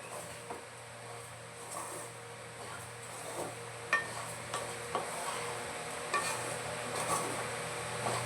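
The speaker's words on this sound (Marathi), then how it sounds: "आता कुठे न जाता आपल्याला एकसारखं हे ढवळत राहायचं आहे" Grated coconut and sugar mixture stirred in a pan over low heat, giving soft continuous scraping with occasional light clicks of the spoon against the pan and a faint sizzle underneath.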